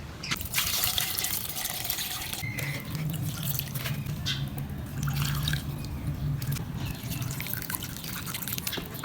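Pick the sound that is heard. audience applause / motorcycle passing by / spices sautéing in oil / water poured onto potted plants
water poured onto potted plants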